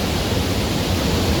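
A big waterfall rushes in torrential rain, a loud, unbroken broadband roar filling the whole moment close by.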